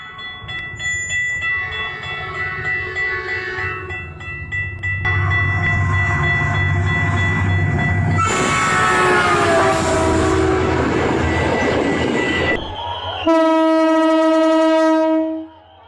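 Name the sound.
train passing with horn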